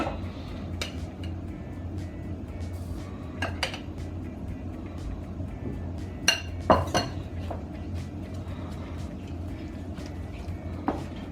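Flour being stirred into a paste in a bowl, with a spoon clinking against the bowl now and then, quiet and close over a low steady background.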